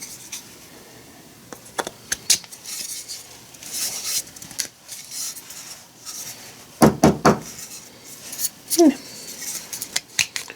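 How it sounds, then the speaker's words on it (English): A hammer taps a brass-cast part made from a 3D-printed pattern, giving several sharp metallic strikes in short clusters amid quieter handling noise at close range. "So if you're going to be hammering like this"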